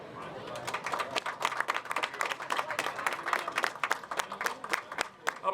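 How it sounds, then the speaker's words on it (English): Steady, fairly distant clapping from an audience at a Springfield, Massachusetts pancake breakfast, dense rapid claps sustained throughout with slight swells. "How about another round of applause for Judy Matt?"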